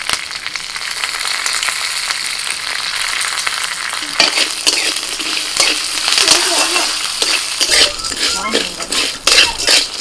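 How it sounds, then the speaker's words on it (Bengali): Garlic cloves, dried red chillies, curry leaves, black mustard seeds and whole cumin fry in hot oil over a low flame, giving a steady close crackle and sizzle with occasional spatters and stirring scrapes throughout. "আর একদম হালকা আঁচে আস্তে আস্তে করে ভাজতে হবে।"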